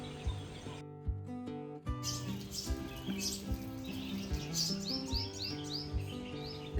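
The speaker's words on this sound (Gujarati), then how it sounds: "જો ચકલી છે ને સવારમાં બચ્ચાઓને ખવડાવવા આવી છે" A sparrow feeding its chicks on a foggy village morning gives faint, quick chirps high above a louder musical backing, the calls repeating in short irregular bursts.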